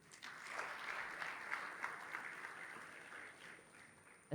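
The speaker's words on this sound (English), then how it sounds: "Now I want another round of applause for yourselves for achieving this and contributing to this." An audience at the Rwanda FinScope 2024 launch event claps in a sustained round of applause, a dense crowd of hands that swells and holds, heard from within the hall without talk.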